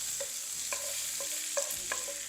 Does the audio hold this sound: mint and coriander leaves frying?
yes